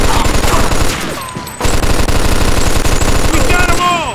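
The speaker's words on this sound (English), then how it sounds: "Stop shooting that fucking thing." Loud, rapid machine-gun bursts rip through a Mafia 2 shootout, a relentless stream of close shots with a brief lull midway before firing resumes; a voice is heard in the background.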